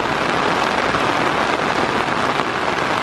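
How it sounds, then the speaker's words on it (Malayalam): Monsoon rain pours steadily through a forest, a dense, even hiss of drops on leaves and ground that stays close and constant throughout, with no voices. "ഒരു കാര്യം കാണിച്ചു തരാം മഴ പെയ്തിട്ടുണ്ട് കേട്ടോ"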